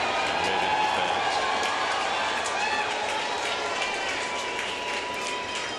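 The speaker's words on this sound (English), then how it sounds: "Another cheer for David." Baseball stadium crowd cheering for David Wright at his final Mets game, a steady, dense roar of cheers and applause that stays loud and unbroken throughout.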